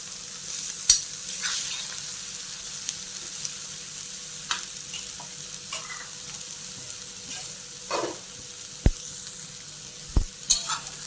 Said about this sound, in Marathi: आता मी याच्यावर भाजी टाकून घेतली आता ही भाजी आपण चांगली परतून घेऊ